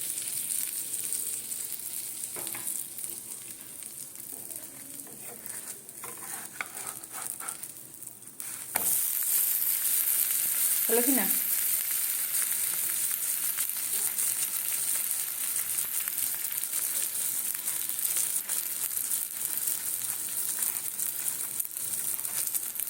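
Aloo kulcha fries in butter on a pan with a constant crackling sizzle that grows noticeably louder partway through, close by with a few light scrapes and no speech.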